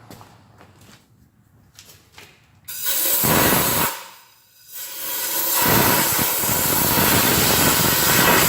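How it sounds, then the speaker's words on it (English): Aerosol brake cleaner sprayed in long loud hissing bursts on a rusty Ford F-250 4x4 front axle during ball joint work, two blasts separated by a brief pause after quieter handling clatter. "Guess I'm gonna make a mess with brake clean."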